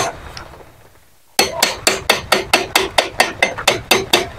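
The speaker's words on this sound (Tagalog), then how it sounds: "pukpukin lang ng dahan-dahan yung mga martilyo gamit" A hammer taps a water pump bearing loose during an impeller and bearing replacement, about a dozen sharp, evenly spaced metallic strikes close by after a brief quiet pause, with no talking.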